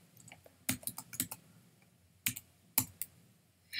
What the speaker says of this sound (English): so I guess we have to type the whole thing then.